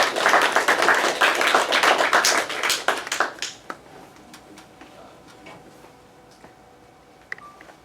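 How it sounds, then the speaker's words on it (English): Conference audience at a dental implantology meeting in San Diego claps for the visiting speakers, a burst of many hands that fades after a few seconds into a quiet room with a few stray claps. "let's give them a big round of applause for coming all the way to San Diego"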